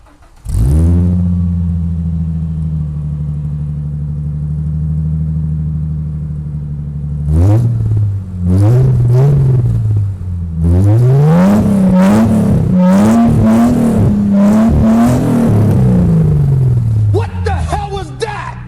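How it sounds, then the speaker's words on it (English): A 1998 Ford Mustang V8 with no exhaust idles with a deep, raw open-exhaust rumble, then revs hard several times in loud rising and falling bursts, very close. "Now that right there is an atrocious sounding exhaust."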